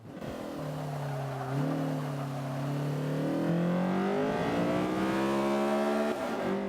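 A Honda Civic CRX Mugen race car engine in Forza 5 revs and climbs steadily through the gears at full throttle down a straight, whining higher with each shift, synthetic and continuous, with no voices.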